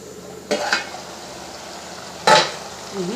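Cauliflower curry with tomato pulp is stirred in a pan, giving two distinct scraping strokes of a spoon against metal over a soft, steady background sizzle.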